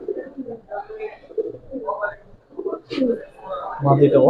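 A pair of silver Giribaz pigeons coo in soft, repeated low bursts nearby while someone talks over them.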